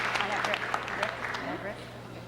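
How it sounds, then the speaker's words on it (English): Audience applause at a 2004 Swingtime award presentation in a ballroom, a steady wash of clapping from a moderately distant crowd throughout the short stretch, with a faint voice mixed in. "a big round of applause for Scott Lindbergh."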